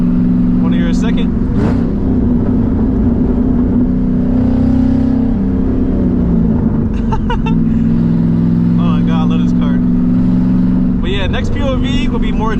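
A 2007 Ford Mustang GT with newly modified, loud exhaust revs in a close, sustained roar, its engine note dipping and rising through the run.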